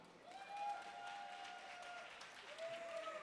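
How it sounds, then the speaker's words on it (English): Audience applause at a drag pageant preliminary night, a soft, distant patter of clapping that swells slightly and fades, with a faint sustained tone underneath. "I want you to give her a nice round of applause"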